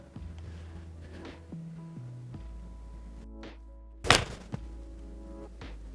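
A single crisp thunk of a TaylorMade P7MC iron striking a golf ball on a fade shot cuts through quiet background hum, with a faint knock shortly after.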